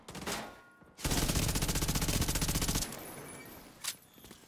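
Rapid automatic gunfire in the video game The Division 2 rattles out in a sustained burst of nearly two seconds, preceded by a softer shot and followed by a single faint report, with no talking.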